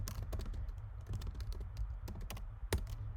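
Fingers type on a computer keyboard, irregular close clicks and taps coming in quick bursts with short pauses, no talking.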